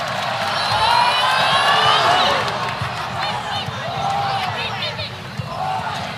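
A volleyball crowd cheers and shouts throughout a 2023 college match between Kentucky and Louisville, a loud, steady arena roar with whoops and swelling calls, and court sounds scattered through it.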